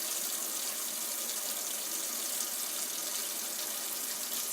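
Hot water running from a faucet into a sink: a steady, faint hiss and splash with no breaks, heard alone.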